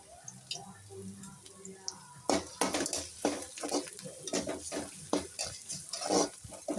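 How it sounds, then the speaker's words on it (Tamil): Curry leaves and salt stirred and sautéed in oil while making goat intestine curry: close, repeated spoon-against-pan scrapes and clinks over a soft sizzle, with faint talk early on. "உப்பு போட்டு நல்லா வதக்குவோம்"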